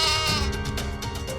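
A goat bleats loudly and close by in a single sustained, wavering call, with no talk over it.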